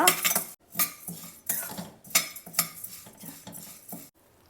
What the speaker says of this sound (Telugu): ఈ గోధుమలను అయితే సన్న సెక మీద ఫ్రై చేసుకోవాలి